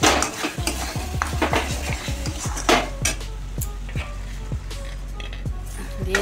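A spoon stirs Kashmiri chili powder through hot oil in a frying pan, with repeated scraping knocks of metal on metal at an irregular rhythm over a soft sizzle, close and clear.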